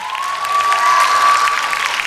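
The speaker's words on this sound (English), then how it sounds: "Let's give her another hand of applause." Loud crowd applause and cheering at an 8th grade graduation ceremony in 2018, a dense sustained burst of clapping with a ringing feedback-like tone over it.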